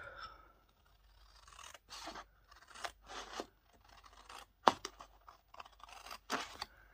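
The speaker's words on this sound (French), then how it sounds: "Donc après, on coupe." Scissors cutting paper in a series of irregular snips and scraping strokes, some close and sharp, with brief pauses between cuts and no talking.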